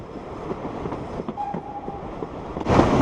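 A heritage steam railway train rumbles along the line between Corfe and Swanage, a steady rolling rattle with faint clicks and a brief high squeal, swelling to a louder rush at the end.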